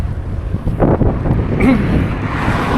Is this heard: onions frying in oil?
no